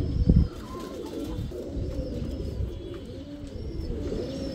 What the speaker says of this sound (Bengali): পাল্লার কবুতর থাকে এখানে